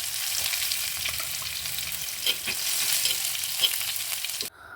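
Two or three crushed garlic cloves sauté in hot oil with popped mustard seeds, giving a steady, close sizzle broken by a few stirring scrapes before it stops suddenly.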